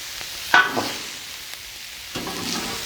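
Onions, mushrooms and peppers fry on a Blackstone griddle with a steady low sizzle, broken by a couple of brief scraping stirs from a spatula, close and fairly quiet.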